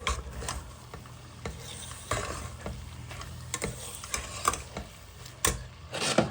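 Egg frying in a pan with a papaya stir-fry, heard as repeated spatula scrapes and clacks at an irregular pace over a soft, low sizzle, close and moderately quiet.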